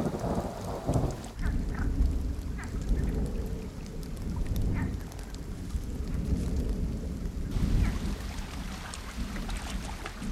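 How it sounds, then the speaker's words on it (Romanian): Heavy summer downpour in a Carpathian forest, a dense steady hiss of rain on foliage with low rolling thunder rumbling underneath throughout, continuous and fairly loud with no voices. "În mijlocul verii carpatine se atinge cel mai înalt nivel de precipitații."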